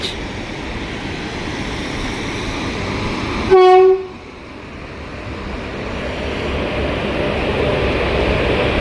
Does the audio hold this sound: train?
yes